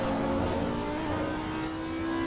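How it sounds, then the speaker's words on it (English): A GT4 race car engine drones loud and close at high revs during a lap at Brands Hatch, a steady rasping roar with a sustained tonal whine. "Enjoy the sound of a GT4 engine"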